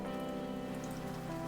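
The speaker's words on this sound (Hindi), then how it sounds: "बारिश तेज हो जाती है" Heavy rain pours steadily throughout, a dense, even hiss of drops striking surfaces near a pond-side roadside eatery, with no voices over it.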